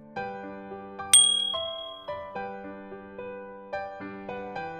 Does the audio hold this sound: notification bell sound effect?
yes